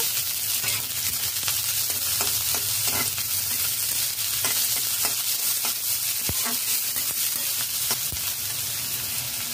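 Chopped onion, garlic and green chilli fry and get stirred in a pan over a low to medium flame: a steady, close sizzle with scraping stir strokes throughout and no talking.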